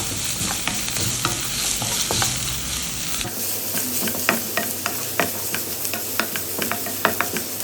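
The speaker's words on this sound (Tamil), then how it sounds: "இது ரெண்டுத்தையும் சேர்த்து நல்லா எண்ணெயில் ஃப்ரை பண்ணிக்கலாம்" Crushed garlic and ginger frying in oil, a loud close sizzle with frequent sharp crackles and pops and stirring scrapes throughout.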